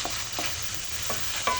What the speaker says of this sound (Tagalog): Sasangkutsa ko muna siya.